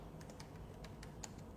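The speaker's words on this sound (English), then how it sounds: "use your keyboard to start typing" Keys tapped on a computer keyboard in a quiet room, a handful of soft, close clicks in an uneven rhythm over faint background hum.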